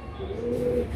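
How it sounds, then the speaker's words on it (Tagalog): Pigeons in a loft give a short, soft coo, a faint low murmur lasting under a second. "Yan po, mga kalapati, no?"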